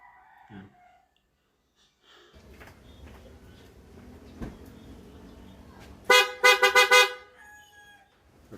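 A PIAA aftermarket horn fitted to a 2022 Toyota Rush sounds in four or five loud, close, blaring toots near the end, following a stretch of low idling rumble and faint handling noises.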